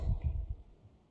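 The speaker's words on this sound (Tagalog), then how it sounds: "inuubo po ako mga palangga" A few short, low, rough bursts close by, like a person coughing in quick succession, fading into quiet.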